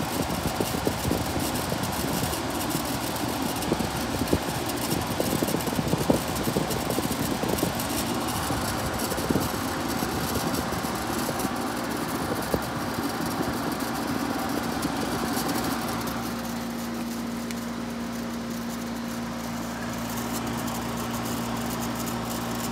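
A 1966 Fedders Weather Wheel 12,000 BTU 220V window air conditioner runs with a steady mechanical hum and fan whir at close range, settling into a smoother, lower drone partway through.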